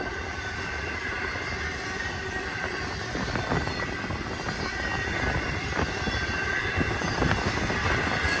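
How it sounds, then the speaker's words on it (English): A BNSF high-priority multimodal Z freight train climbs eastbound toward Cajon Summit on the main track, its loud, steady rumbling hum slowly rising in pitch as it gathers speed, with faint wheel squeal and no voices. "You're hearing the pitch of the sound of the train hum going a little bit higher pitch"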